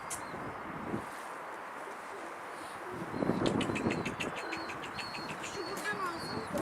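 A young Mardin pigeon on a rooftop gives soft cooing and chirping calls amid outdoor noise, with people talking over it.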